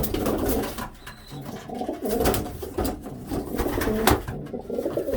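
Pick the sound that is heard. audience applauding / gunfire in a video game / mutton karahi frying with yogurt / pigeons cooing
pigeons cooing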